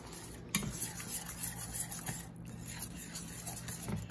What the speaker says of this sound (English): Whisking it up